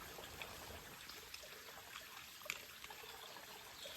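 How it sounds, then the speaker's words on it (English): Water trickles faintly through a backpacking water filter into a bottle on the Appalachian Trail, a soft, steady dribble that stays close and quiet throughout, with no talking. "Then you proceed to filter the water, like so."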